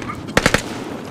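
Gunfire in a video game, a quick burst of three sharp shots fired in rapid succession, loud and close over a low background hum.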